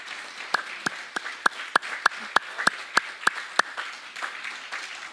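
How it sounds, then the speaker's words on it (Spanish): A Spanish-speaking church congregation giving a round of applause to the Lord after a Bible study: sharp, separate hand claps in a steady rhythm, fairly close and moderately loud, with a faint voice underneath. "Démosle un aplauso al Señor."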